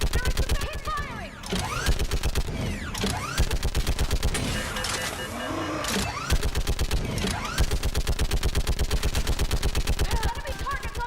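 Rapid automatic weapon fire in the sci-fi shooter Mass Effect 3 during a battle on Thessia, sustained bursts of loud close gunshots with brief pauses and a shouted voice at moments.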